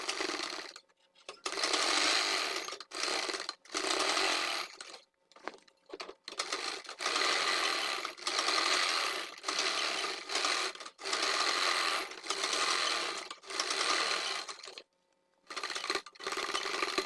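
A sewing machine stitches a waist strap onto a sleeveless blouse in quick, rapid rattling bursts that start and stop repeatedly, with short silent gaps between runs, close and clear.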